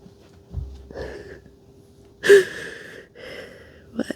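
A dog sniffles and snorts close by in a few short breathy bursts, separated by pauses, over a faint steady hum in a quiet indoor room.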